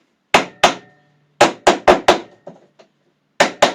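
Sharp, close hammer taps seating wooden beehive frame top bars into their joints, coming in small clusters of two and three with pauses between and a couple of softer knocks.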